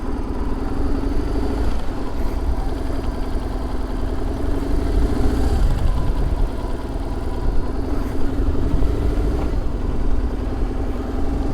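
A motorcycle engine runs with a steady throbbing drone, its pitch rising slightly as it accelerates after a clutch cable repair, close and continuous with no talk.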